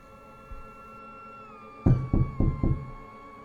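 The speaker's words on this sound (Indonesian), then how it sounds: "Terdengar suara seseorang mengetuk pintu dan mengucapkan salam" Four firm knocks on a door at a rented boarding room, loud, close and evenly spaced, after a stretch of quiet room tone with a faint steady tone running underneath.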